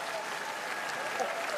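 TV studio audience applauding on a German music show, a steady mid-level clatter of many hands clapping with faint crowd voices mixed in.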